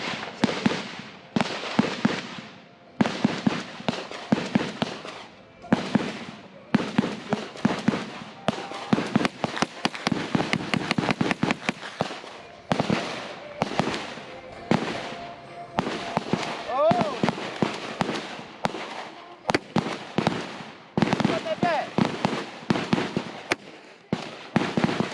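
Taurus Judge revolver firing outdoors, a long series of sharp, loud reports spaced irregularly across the clip, some in quick clusters, with voices talking between shots.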